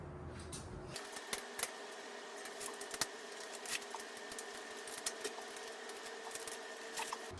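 Faint, irregular small clicks and ticks from hardware being tightened on an affordable nine-drawer dresser during assembly, quiet and close with short gaps between them.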